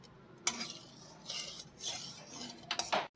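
Ghee melting in a kadhai for sukhdi, quiet metal scrapes and clinks from a spoon stirring in short bursts against the pan, faint and close, with no talking.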